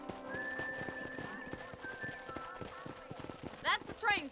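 Horse hooves clip-clop in a steady rhythm within a video game set near a frontier train station, with a voice talking over the hoofbeats and a brief whinny-like call near the end.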